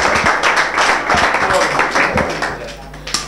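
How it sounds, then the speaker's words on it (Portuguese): Applause and clapping from a crowd at a live rap battle, dense rapid claps continuing throughout, loud and close, with voices mixed in. "Aplausos."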